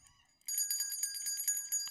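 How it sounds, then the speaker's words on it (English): A Salvation Army handbell rings steadily in rapid, bright metallic peals after a short quiet lead-in, fairly close and unbroken by talk, carrying on for over a second. "And also the bell ringing."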